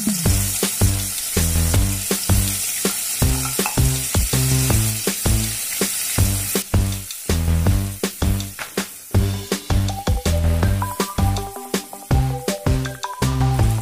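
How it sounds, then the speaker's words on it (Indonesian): Ground spice paste for sambal goreng fries in hot oil in a wok, a steady bright sizzle running beneath rhythmic background music. "kita masukkan ke dalam minyak panas di wajan untuk kita goreng."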